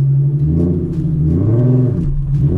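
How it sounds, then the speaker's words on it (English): Boosted manual Ford Mustang engine revving close by, a loud deep throaty rumble that swells and dips in short surges, with no talk over it. "Just always give the car gas. Just give it gas."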